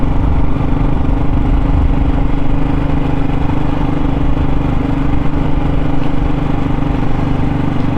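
A first-generation Yamaha YZF R125 motorcycle ridden slowly through the town of Brixham, its engine droning loud and steady with a buzzing hum throughout, no speech over it.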